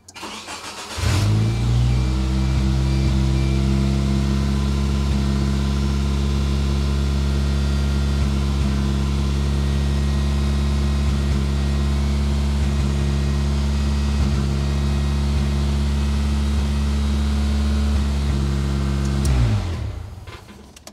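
Geo Tracker engine starting up after repairs, then idling loudly and steadily for about twenty seconds, a deep even hum heard close before it shuts off; no voices.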